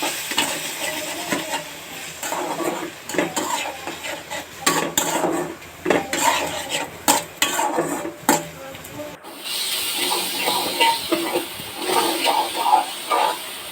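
Tomato bharta being stirred and mixed in a pan, a steady scraping and rubbing with sharp utensil knocks and a faint sizzle, close and continuous with no talk.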